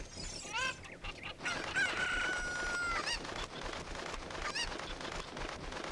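Cuckoo chickens squawking and crowing in the video game Zelda: Ocarina of Time, several loud bird calls including a drawn-out crow, over busy game background sound.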